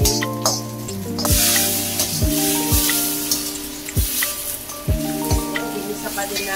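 Broccoli sizzles loudly while being sautéd in a pan, a continuous frying hiss punctuated by regular knocks of a spatula or spoon hitting the pan as it is stirred, roughly once a second.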